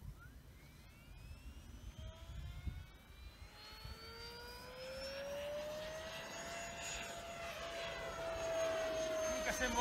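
Electric motor of a Silver MC1 J AcroGlider model glider whining up in pitch as it spins up and flies past, growing steadily louder and steady through the clip, with brief talk at the start.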